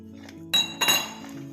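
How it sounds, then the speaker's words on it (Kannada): Bajji batter for palak leaf and mirchi bajji is mixed in a bowl, with a utensil giving two sharp, close clinks against the bowl in quick succession, followed by softer scraping. "ಇವಾಗ ಅದನ್ನು ಮಿಕ್ಸ್ ಮಾಡ್ಕೋಬೇಕು"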